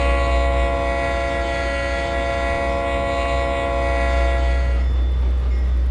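Train horn from a locomotive in the Trainz Plus rail simulator, a long sustained blast over steady engine rumble, loud and close, ending with a shift in the tone near the end.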